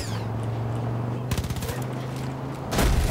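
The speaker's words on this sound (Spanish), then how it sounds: "Dale, dispara, dispara, dispara, dispara con todo, con todo, con todo" Rapid automatic gunfire in Far Cry 5, a tight burst of repeated shots cutting through a humming background, followed by a heavier blast near the end.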